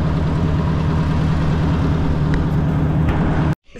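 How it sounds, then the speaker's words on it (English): Tractor engine running steadily with a low, throbbing rumble, close and constant, cutting off abruptly near the end. "Hopefully I won't get the tractor stuck."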